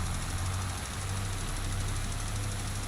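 A John Deere tractor engine in a farming video game set on Iowa plains, a steady low idling drone with a constant rumble running the whole time, loud and close with no breaks.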